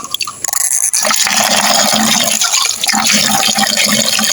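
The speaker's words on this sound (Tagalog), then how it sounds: "Tapos, lagyan natin ng tubig." Water rushes and splashes steadily into a 16-liter bucket, a continuous loud pouring sound with gurgling, no talking.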